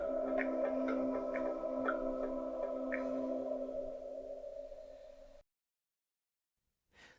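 A Daisybox device plays a quiet electronic start-up melody of sustained tones with short pinging notes over them, lasting about five seconds before cutting to silence and a brief faint sound at the end.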